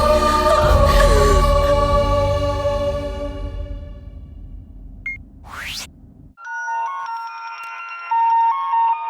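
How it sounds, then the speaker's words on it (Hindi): A loud tonal ring fades out, followed by a short electronic blip and then a melodic phone ringtone playing a repeating pattern. "बड़े भैया, संध्या का फोन आया।"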